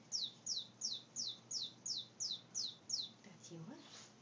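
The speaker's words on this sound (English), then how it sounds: "It's got little contacts on the bottom, and if you hold it in your hand, it chirps." A palm pet toy with contacts on its base chirps while held in a hand, giving about ten quick, bright, evenly spaced electronic chirps, fairly faint, followed by a brief soft voice at the end.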